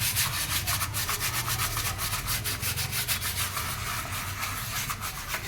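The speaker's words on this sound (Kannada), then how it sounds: "ನಿಮ್ಮ ಪೌಡ್ರ್ ಹಾಕಿ ಉಜ್ತಾ ಇರೋದು ನನ್ನ ತಂಗಿಯವರು" A surface being scrubbed with soap and cleaning powder during festival house cleaning: steady, loud, rapid rubbing strokes that carry on without a break, close up and with no talking.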